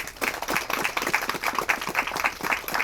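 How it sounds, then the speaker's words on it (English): An outdoor crowd at a walk against domestic violence applauds the Southfield Roadmasters Corvette Club, a moderate, steady patter of clapping from a modest group. "give them a round of applause for being here as well"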